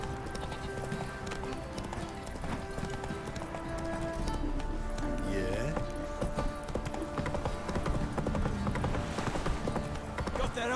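Roach, Geralt's horse in The Witcher 3, gallops with rapid, continuous hoof clatter over layered game music, hooves growing busier and louder midway through.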